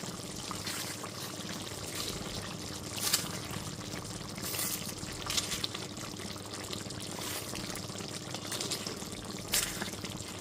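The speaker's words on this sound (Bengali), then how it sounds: "খুব ভালো মতো উপর থেকে নিচে নেড়ে নিচ্ছি।" Chicken curry is stirred from top to bottom in a pot, with soft wet scraping and sloshing repeating faintly and close by, without any talk.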